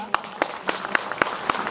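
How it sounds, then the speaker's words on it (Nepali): Audience applause at a poetry book launch: sharp hand claps landing in a fairly steady, evenly spaced rhythm, moderately faint and slightly distant, with no other sound standing out. "सबैजनाले ताली बजाइदिनु होला"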